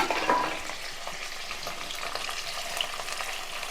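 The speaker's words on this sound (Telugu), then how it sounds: "ఇప్పుడు ఈ ములక్కాళ్ళు ఇందులో వేగితే కొంచెం పచ్చివాసన పోతుంది" Moringa drumsticks fry in a pan with a steady, close crackling sizzle, slightly louder at the start and then holding even throughout, with no voices.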